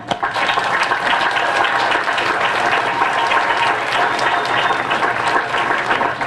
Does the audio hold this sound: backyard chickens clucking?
no